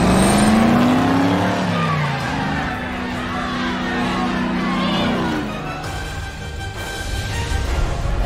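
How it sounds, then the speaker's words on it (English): A cartoon car engine starts and pulls away, the motor rising in pitch as it revs, loud and close, with shouting voices mixed over it throughout. "Start the car!"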